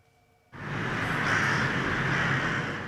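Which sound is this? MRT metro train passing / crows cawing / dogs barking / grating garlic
crows cawing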